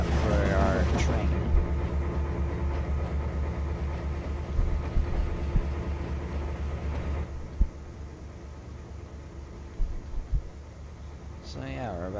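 A Conrail freight train with boxcars rumbles through a Trinity Bay route in Train Simulator 2012, a continuous low mechanical drone with occasional knocks and clanks, while someone talks over it.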